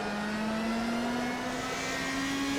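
A Radical SR3 race car engine holds a steady, gurgly high-pitched drone that rises slowly, heard close with nothing else over it.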